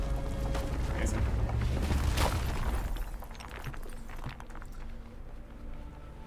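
A rock explosion in RuneScape: Dragonwilds: a loud, dense burst of blast and rumble that swells for about two seconds, then drops away into quieter scattered clatter and low background noise.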